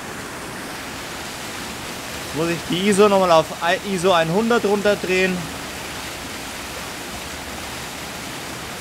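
A waterfall in a snowy landscape gives a constant broadband rush throughout, steady and even, while someone speaks briefly over it in the middle.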